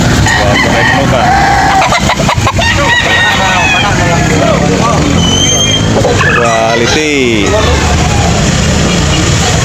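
Roosters crowing loudly nearby, several drawn-out calls overlapping with clucking, while someone talks over them.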